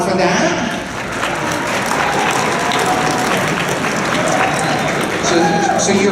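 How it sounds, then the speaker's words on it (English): A crowd at a Texas TSA celebration breaks into loud, dense applause for a teacher, with steady clapping and some cheering sustained throughout, alongside a murmur of voices. "Yeah, you can applaud for that."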